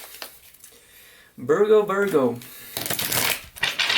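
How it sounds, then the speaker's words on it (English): Tarot cards are shuffled in soft bursts of papery riffling around a woman's speech, with a quick run of card flutter near the end. "let's do two more shuffles here"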